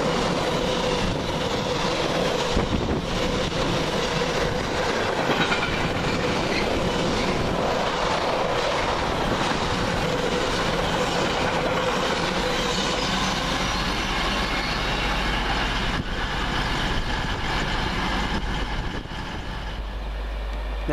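A freight train on the Garston to Southampton service rolls past near Warrington, a long continuous rumble with clickety-clack wheel beats and occasional squeals, loud and close throughout.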